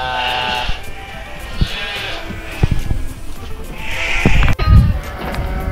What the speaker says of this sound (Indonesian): Comel-comel guys kambing.